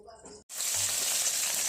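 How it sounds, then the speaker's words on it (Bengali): Small sea catla fish fry in hot oil in a wok, a loud, dense sizzle that bursts in after a brief silence and hisses steadily to the end. "আমার মাছটা ভাজা হয়ে গেছে মাছটা আমি অতিরিক্ত ভাজবো না"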